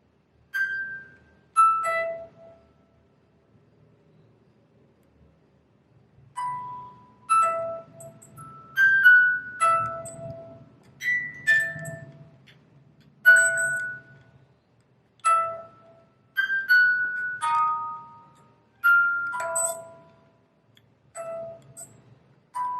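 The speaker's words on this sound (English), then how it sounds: "For those of you who chose the Harry Potter music box, I'm just going to play it for a few seconds" A delicate tinkling Harry Potter music box melody plays alone, plucked metallic notes ringing out in a slow, gently paced tune with brief pauses between phrases.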